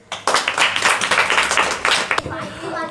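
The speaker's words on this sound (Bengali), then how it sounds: "হাততালি দে" Hands clapping in a classroom for a pupil receiving a third prize after a grammar test: a quick, steady run of claps for about two seconds that then stops, with talk mixed in.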